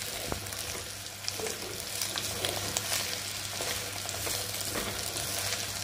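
Beetroot stirred and fried in oil gives a continuous soft sizzle with occasional spoon scrapes against the pan, fairly quiet and even, with a low steady hum underneath.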